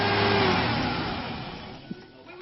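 1997 Ford Ranger 4.0 engine held at a raised rev after an oil change, a steady close mechanical drone that slowly eases down over a couple of seconds, with a brief click near the end.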